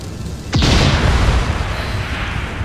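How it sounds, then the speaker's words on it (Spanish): A single loud explosion in Assassin's Creed Syndicate booms suddenly, followed by a rumbling, crackling tail that slowly fades. "La explosión en teoría debería destruir a los dos."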